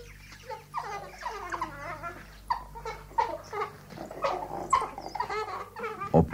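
A pack of African wild dogs on sun-baked grassland, giving a busy run of high, yelping twitters and chirps that overlap at close range and keep going without a break.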